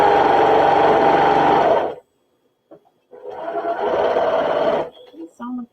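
A home sewing machine runs in two loud sustained bursts of close motor whir, with a short quiet pause between them and a few soft clicks at the end.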